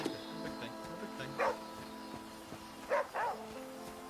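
A dog in the video game The Flame in the Flood gives a few short barks and yips, single and paired, over a steady droning game background.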